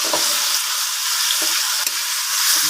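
Large-cut pork pata in a pan for pata tim gives a dense, even sizzle throughout, broken by a few soft knocks and scrapes from stirring, with no speech.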